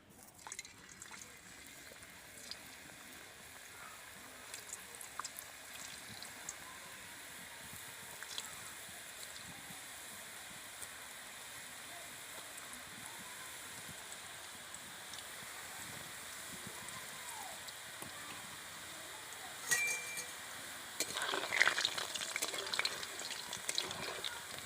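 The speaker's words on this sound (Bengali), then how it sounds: "এবার বাকি গোলাপজামগুলো আমি একই রকম করে ভেজে নেব।" Semolina gulab jamun sweets fry in hot oil, giving a steady, soft bubbling sizzle that runs throughout at low level, close by, with occasional faint clicks and no talking.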